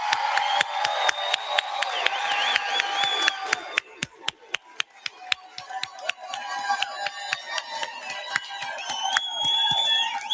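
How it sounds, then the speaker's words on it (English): Graduation audience in a hall, friends and family applauding the standing graduates, steady crowd clapping with sharp individual claps and cheering rising and falling across the whole stretch. "can we get the one more last round of applause?"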